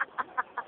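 A chicken at Manila Zoo clucks four times in a quick, even rhythm, clear and close with little else around it.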